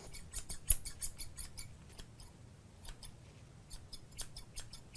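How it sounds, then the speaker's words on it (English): Rapid, crisp metallic snipping of 7-inch Solingen-style carbon steel shear blades opening and closing in quick bursts, close up, with a faint background hiss. "Listen to that scissor run."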